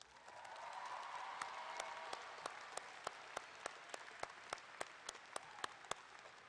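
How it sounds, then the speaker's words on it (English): An audience at the Westmoore High School 2018 graduation ceremony applauds in a soft, distant wash of clapping that gradually settles into evenly spaced, rhythmic claps. "Please join me in a round of applause congratulating Christopher and Jackson"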